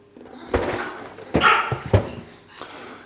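Dogs at home make a few sharp, separate barks and yips spread across a few seconds, close by, with light indoor clatter around them and no talking.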